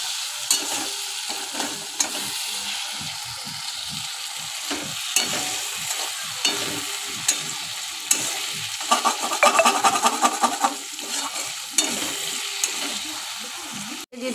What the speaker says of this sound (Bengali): নেড়ে নেব টমেটোটা।